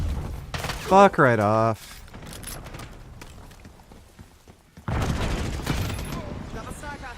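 Rapid video game gunfire crackles in dense bursts through a live stream, partly beneath a man's loud, agitated talk, with a heavier sustained volley near the end.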